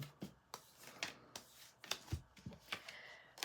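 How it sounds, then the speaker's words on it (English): Cards are shuffled in quick, soft bursts, papery riffles and light taps repeating irregularly, quiet and close with no talking. "Let's shuffle up these cards."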